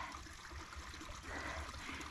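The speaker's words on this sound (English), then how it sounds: "Definitely more water running out of there now." Water trickles and splashes steadily, a soft continuous flow heard close by with low rumbling noise beneath.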